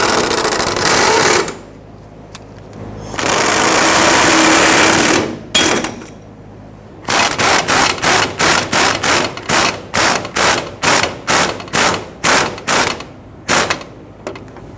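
Fuel tank strap bolts tightened on a 2005-2021 Nissan Frontier 4.0L V6, loud close pneumatic ratchet bursts, first two long whirs, then a fast train of rapid rattling pulses, no talking.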